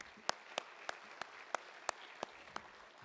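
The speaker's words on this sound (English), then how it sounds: "so give them a round of applause as well." A modest crowd at a speedway awards banquet gives a round of applause, sharp distinct claps at a fairly even pace over a soft wash of background clapping, somewhat distant and quiet.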